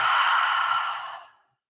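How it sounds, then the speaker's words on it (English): A long, steady exhale blown out through the mouth, close and breathy, holding level for about a second before tapering off into silence during a breathwork session. "we're breathing in through the nose, belly, chest, and out the mouth"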